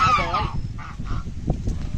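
Geese honk loudly and nearby in a short burst, a few nasal calls overlapping with steady outdoor background noise.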